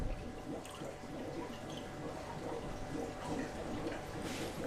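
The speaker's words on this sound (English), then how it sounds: "The fact that that corner is dripping, that worries me." Water drips and trickles from a leaking corner of an aging glass aquarium tank with old silicone seals, a faint, steady wet patter over constant background noise with no talking.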